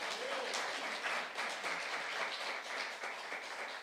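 A church youth-group congregation applauds during a sermon. The clapping is soft and distant, a continuous patter of many hands that stays steady to the end.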